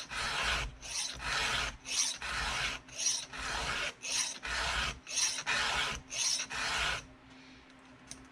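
A file rasps across a chainsaw chain by hand in steady, evenly spaced strokes, about a dozen close, loud passes each followed by a short pause, with no talking.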